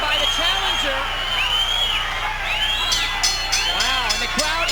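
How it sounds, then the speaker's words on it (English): A large boxing crowd at the Seminole Hard Rock Hotel and Casino roars and whoops steadily, with rising shouts and cheers swelling throughout under a continuous dense hubbub. "the crowd is loving it"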